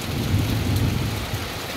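Heavy rain falls on a flooded mango orchard behind a room, a loud, close wash of drops over a low rumbling undertone that swells slightly midway before easing.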